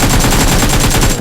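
Rapid automatic gunfire from the battle royale game PUBG, a loud continuous burst of closely spaced shots with no talk over it.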